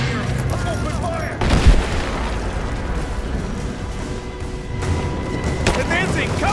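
Gunfire in Rise of the Tomb Raider during an ambush near a mural: a dense fusillade with a sharp loud blast early on, further shots and rumbling explosions continuing underneath throughout.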